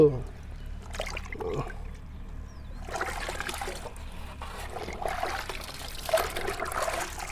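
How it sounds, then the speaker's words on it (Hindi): Water sprays and splashes in uneven bursts against a motorbike being washed, with someone talking in between. "एक बार फिर पानी मार देता हूँ मैं,"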